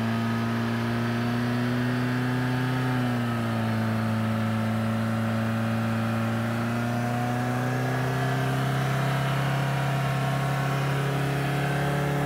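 A Jeep engine revs while driving in loose sand, a steady droning hum that dips in pitch and then slowly climbs as the engine strains, continuous and fairly close, with no talking.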